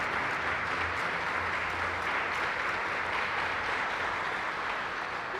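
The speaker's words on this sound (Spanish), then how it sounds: "demos el aplauso de agradecimiento a Dios." A church congregation in Cali applauds in thanks during a Mass, steady dense clapping from many hands filling the space for several seconds without a break.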